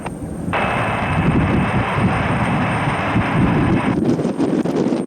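An airliner's jet engines roar steadily and loudly at Cleveland Hopkins airport on a snowy, bitterly cold day, a broad continuous rumble that holds for several seconds before easing slightly.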